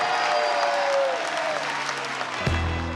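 A studio audience for a France 2 game show at the Plaine Saint-Denis studios applauds loudly and continuously, a dense wash of clapping, with a brief low thump near the end.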